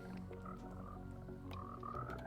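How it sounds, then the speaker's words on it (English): Frogs croak in the Minecraft video game, a steady run of low, rhythmic in-game croaks heard alone at a quiet, even level. "Let's go back and check on our frogs."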